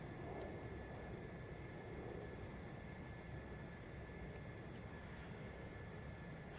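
Steady, continuous roar of a jet aircraft engine in flight from the Ace Combat Zero video game, a constant broadband drone with a faint high whine and no voices.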